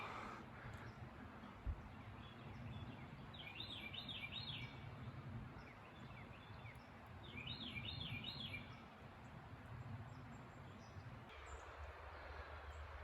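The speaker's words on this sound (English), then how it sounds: "looks like Carolina wren" A Carolina wren sings two short bursts of rapid, rolling repeated phrases, distant and faint, over steady low rumbling background noise along a trail near a river dam.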